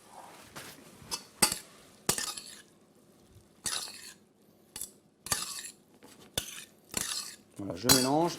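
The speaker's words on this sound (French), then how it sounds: "Voilà, je mélange." A utensil stirs and scrapes food in a dish while preparing a mushroom-stuffed chicken ballotine, with irregular clinks and taps of metal against crockery, close and fairly quiet, ending in a brief squeak.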